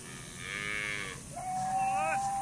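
A Brangus cow moos twice in quick succession, a low drawn-out call followed by a rising one, fairly faint against light background noise.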